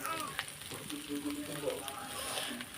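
Ginger and garlic paste fries in a pan for a chicken and potato curry, a soft continuous sizzle with faint stirring scrapes, quiet and close, with a little voice underneath.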